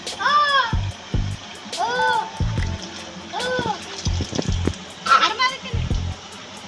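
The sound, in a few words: child splashing and playing in water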